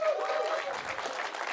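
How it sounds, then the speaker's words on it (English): Audience clapping at a live web developer conference session, a moderate burst of applause from the crowd with some voices mixed in. "Give yourselves a round of applause."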